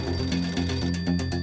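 Telephone ringing in a Hindi courtroom drama, a rapid electronic trill pulsing in quick repeated bursts, fairly loud and alone without talk.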